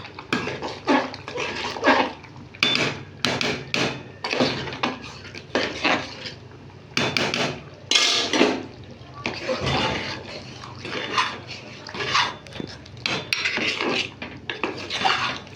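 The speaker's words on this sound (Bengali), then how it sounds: "অল্প জল দেবো দিয়ে এবার এটাকে নেড়ে দেব" A ladle scrapes and clanks around a metal pot of rice-and-lentil khichuri with a little added water, in irregular bursts of stirring knocks and wet rubbing, with quiet stretches between.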